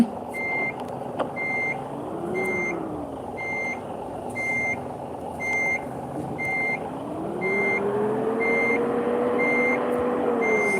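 A bus in Bus Simulator reverses in gear R, with a steady rhythmic reversing beep repeating over a loud continuous diesel engine drone that rises in pitch partway through.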